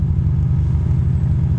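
Motorcycle riding on a road: a loud, steady low engine drone with a throbbing pulse and wind rumble, continuous throughout.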